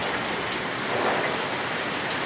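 Steady rain pours down in the Philippines, a dense, even hiss of drops drumming on surfaces that continues without a break, fairly loud and close, with no voices.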